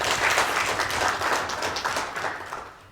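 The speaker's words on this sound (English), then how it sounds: "I think we should applaud him" An audience at the official opening of a parliamentary clerks' society conference applauds a guest of honor, a burst of dense, steady clapping from many hands that fades toward the end, with no speech over it.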